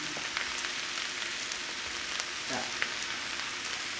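Sausage and home fried potatoes sizzle in a pan, a steady close hiss of frying with small crackles and pops throughout, no voices.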